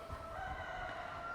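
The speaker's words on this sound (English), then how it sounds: "some chickens. I don't know if you can hear them crowing." Roosters and chickens crowing in rural Thailand, a steady sustained crow carried over a constant background, fairly close and alone without talk.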